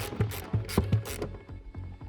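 A ratchet tightening the seat bolts in a new Mazda Miata, a steady series of rhythmic mechanical clicks and pawl ratcheting close up, repeating evenly for about two seconds with no talking.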